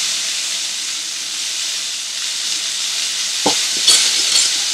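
Prawns fry in hot oil in a pan, a loud steady sizzle and hiss that continues throughout, with a few brief clatters of stirring near the end.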